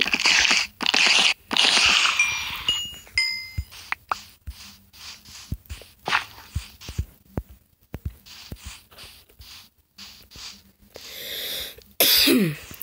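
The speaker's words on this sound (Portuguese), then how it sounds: "Ai, tô tossindo muito." A person coughs in a series of close, harsh bursts near the start, followed by scattered quieter clicks and rustles with no talk.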